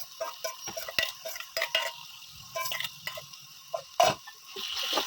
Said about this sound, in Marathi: सगळीकडून असं परतवायचं आहे.